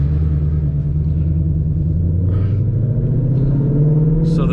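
A 2020 Shelby GT500 engine rumbles while driving, a steady, loud low drone heard from inside the car that swells slightly near the end, with no talking.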